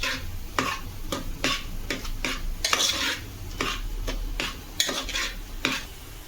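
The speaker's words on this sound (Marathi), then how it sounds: "तर इकडे आपण कुकरला लावून घेतलेलं अळू आहे. मस्त जरा थोडं ढवळून घेऊया." Pressure-cooked taro leaves being stirred in a pot, a series of close scraping and clinking strokes from a utensil against metal in a steady rhythm, with a faint sizzle beneath and no talking.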